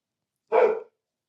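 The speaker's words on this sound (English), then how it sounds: "Bark, bark." A single short dog bark, close and clear, standing alone against silence with nothing before or after it.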